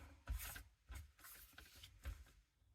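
Paper being trimmed on a cutter for a scrapbook page, with several short rhythmic scraping strokes of the blade, fairly quiet and close, with no talking.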